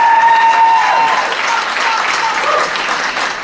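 Audience applause at a university debate event, sustained dense clapping from a sizeable crowd, loud and steady across the whole stretch, with a faint voice audible near the start.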